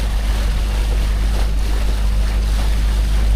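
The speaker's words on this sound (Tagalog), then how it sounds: "Mahangin man dito." Strong wind on a fishing boat out on the Pacific Ocean, a loud steady roar with heavy low rumble and buffeting against the microphone, blended with wash from the sea and no talking.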